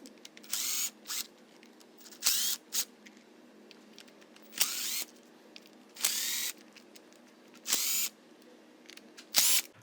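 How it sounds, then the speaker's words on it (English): Cordless power drill backing screws out of a Tippmann TMC paintball marker, six short whirring bursts of roughly half a second each, close and fairly loud, separated by quiet pauses with faint clicks. "So we'll go ahead, start to remove some of these screws."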